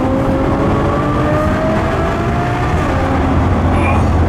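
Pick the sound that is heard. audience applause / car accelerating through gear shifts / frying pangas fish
car accelerating through gear shifts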